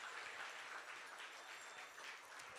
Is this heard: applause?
yes